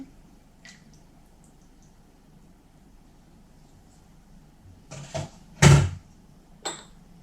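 Vegetable oil poured into a deep bowl of sour milk while mixing kefir dough, heard as quiet, brief wet splashes and glugs bunched near the end after a mostly silent stretch.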